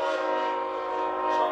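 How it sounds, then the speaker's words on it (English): Train passing near a brewery in El Paso, with a sustained horn blast layered over a steady rumble of rail cars, loud and close, with no talk. "The train."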